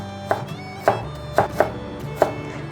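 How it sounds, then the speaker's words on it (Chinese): A knife chops through fresh ginger on a cutting board, five crisp separate thunks spaced unevenly about half a second apart, close and clear with no voices. "把姜切片， 把姜切丝，"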